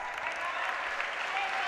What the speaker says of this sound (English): I think he's certainly got the crowd going.